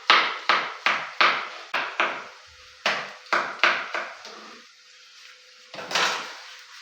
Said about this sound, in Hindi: लहसुन को बरीक काट लेंगे।